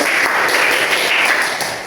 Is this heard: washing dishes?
no